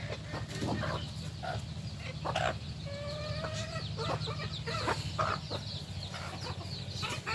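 Chickens cluck and chatter while pecking at feed in a village poultry yard, several short calls and a few stretched squawks scattered over steady low background noise, fairly faint and with no talk.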